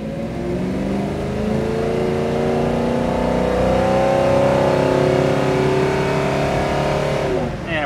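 A 1968 Chevrolet Chevelle SS accelerates hard from a green light, its V8 rising steadily in pitch through the gears, loud and continuous from inside the car.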